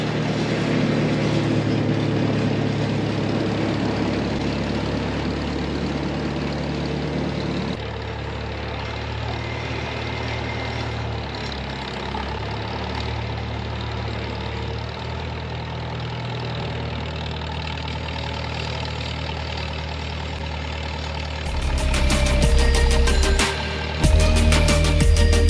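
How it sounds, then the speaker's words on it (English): A 1945 GMC CCKW 6x6 truck engine runs steadily throughout, a low continuous rumble that turns louder and rougher near the end. "we got the engine to turn"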